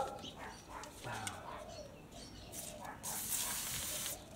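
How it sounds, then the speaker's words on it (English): A can of WD-40 aerosol lubricant sprays in a steady hissing burst of about a second, following quieter rustling and handling sounds, close and fairly loud, with no talking. "WD-40."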